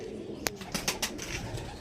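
Andhra Madras pigeons coo softly at close range in a short stretch, broken by a few sharp clicks or wing taps.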